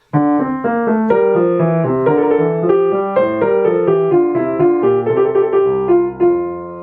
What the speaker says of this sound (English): Then we have a longer trill.